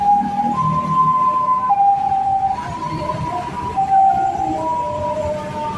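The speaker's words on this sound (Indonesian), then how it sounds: "Itu ada suara ambulan" An ambulance siren wails steadily in a loud two-tone pattern over rumbling Jakarta street noise near a TransJakarta bus stop at Palmerah Station, sustained throughout with no talking.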